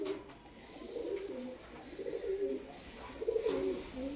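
A pair of Giribaz pigeons coo close by in soft, repeated rolling phrases, about four bursts in quick succession with faint background noise between them.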